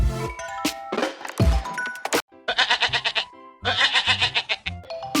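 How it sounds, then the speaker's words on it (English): Goat bleating in a children's animal-names lesson, several wavering cries in quick succession, close and loud with a few chime-like tones between them, no talk over them. "Goat."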